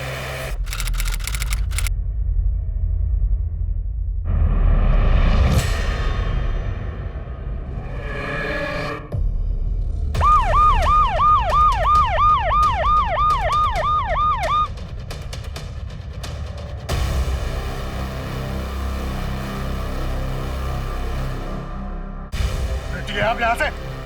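An ambulance siren in a crime drama scene rises and falls in a rapid, repeating wail for several seconds, heard amid other busy dramatic sound and voices.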